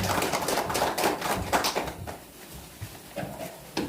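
Audience applause at a Korean sijo poetry collection book launch ceremony, dense, sustained clapping from a crowd filling the room, steady and fairly loud, easing slightly toward the end.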